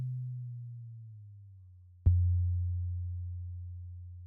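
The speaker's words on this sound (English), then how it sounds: "we can, of course, turn down the filter frequency, which results in a lower pitched sound" Synth tone from a FLOW 3 auto-dynamic filter with its cutoff turned down, a steady low hum that drops slightly in pitch, then a sharp click at about two seconds before the deeper tone sustains on its own.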